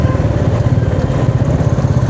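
A Royal Enfield Meteor 350 motorcycle is ridden, its engine thumping loud and close in a steady low pulsing drone with wind rush over it.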